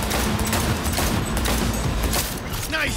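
Gunfire in the Cyberpunk 2077 video game, a dense burst of rapid shots filling the clip over a constant noisy game mix, with a voice briefly audible partway through.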